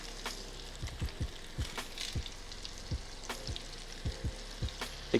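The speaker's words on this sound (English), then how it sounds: "Keep in mind these bad boys fry up really quickly, probably about 3 minutes or so." Coconut shrimp fry in oil in a skillet, a soft continuous sizzle dotted with sharp pops and crackles at irregular intervals, close and fairly quiet with no talking.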